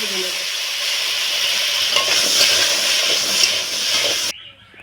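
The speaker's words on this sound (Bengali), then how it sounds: "ওই কড়াইতেই আমি যে কচুগুলো কেটে রেখেছিলাম তার সঙ্গে দুটো আলু দিয়েছি" Taro and potatoes fry in mustard oil in a wok, giving a loud, steady sizzle with occasional stirring scrapes that stops abruptly near the end.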